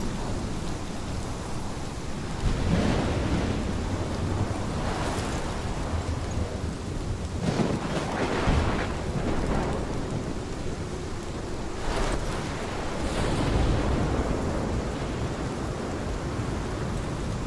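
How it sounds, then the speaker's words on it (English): A thunderstorm in the video game Life is Strange, with steady heavy rain hissing throughout and several deep rolls of thunder swelling and fading at intervals, no talk. "This is my storm."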